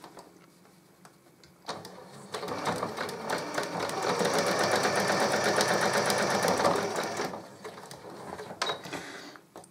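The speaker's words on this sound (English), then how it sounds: "we're ready to go sewing the two collar pieces together" A sewing machine runs a fast, steady stitching burst joining two fabric collar pieces, starting after a short pause and whirring loud and close for several seconds before slowing to a stop, with a few handling clicks around it.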